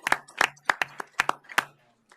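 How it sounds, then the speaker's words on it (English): Scattered hand claps from a small audience at a Fort Mill school board meeting, honoring recognized schools: about eight sharp, uneven claps over two seconds that thin out and stop. "let's give them a big round of applause"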